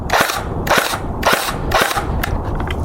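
Echo 1 SOB2 MP5K airsoft gun firing outdoors, with four evenly spaced sharp shots about half a second apart, loud and close, over steady background noise.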